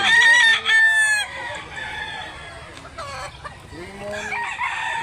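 A gamefowl rooster crows loudly and close by in a long, harmonic cock-a-doodle-doo. Softer clucks and further crowing follow from other farm birds, with faint background voices underneath.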